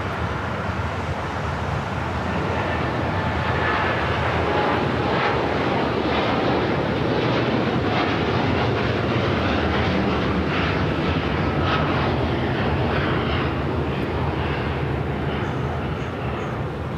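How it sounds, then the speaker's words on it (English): Japan Airlines Dreamliner jet rolling down runway 25 right at LAX, a loud sustained engine roar and rumble from a distance, steady and unbroken throughout, with no talk over it. "Now we got that Japan and Dreamliner now rolling down to 25 right."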